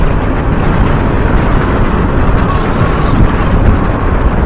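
Heavy wind at the UP Diliman campus roars and buffets the microphone continuously, a dense rumbling rush that masks everything else for the whole stretch.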